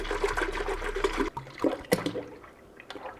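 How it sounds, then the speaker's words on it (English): A gallon of vitamin D whole milk is poured into a cooking pot in a home kitchen, making a steady, close gushing stream that stops after about a second, followed by a few light knocks and drips. "you're gonna pour 1 gallon of milk inside of the pot"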